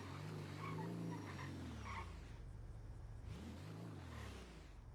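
A game car in a GTA roleplay server pulls up and parks near two SUVs, engine revving and dropping through gears with a brief tire squeal before settling to idle.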